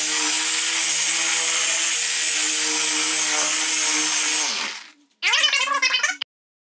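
A dual action polisher runs on a car's paint surface, holding a steady loud whir for about five seconds before winding down, then a brief second burst of motor noise follows before cutting off.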